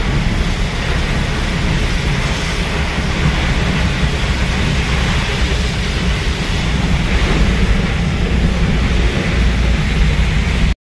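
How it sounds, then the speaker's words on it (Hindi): Heavy rain pours down in a steady, loud, unbroken wash of noise that fills the whole stretch; no distinct thunder claps stand out. "बहुत ज्यादा बारिश हो रही है"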